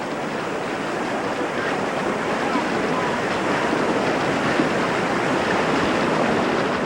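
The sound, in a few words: rushing water of the Tohican Creek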